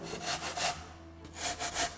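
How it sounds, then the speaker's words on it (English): A drill-mounted rasp carves texture marks into wood, giving bursts of coarse, hissing abrasive grinding that swell and fade in short rhythmic passes, close up and moderately quiet, with a brief pause in the middle. "I'm going back to my carving tools at the drill rasp again"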